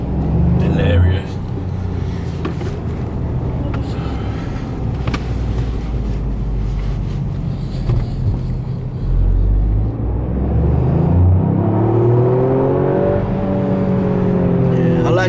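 Toyota GR Yaris engine droning and revving through handbrake drifts, a steady close rumble that rises in pitch toward the end, with someone talking over it throughout.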